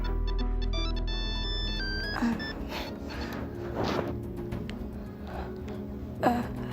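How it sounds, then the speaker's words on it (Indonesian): A mobile phone ringtone plays a bright melodic tone sequence at the start, then gives way to a continuous background hum with a few soft thumps and clicks, and no voices. "Fit, handphone kamu bunyi nih"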